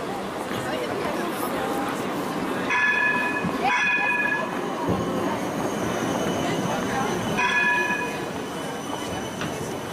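An Amsterdam streetcar passes along a city street, its wheels rumbling on the rails and letting out several high squeals as it goes by, with faint street chatter in the background.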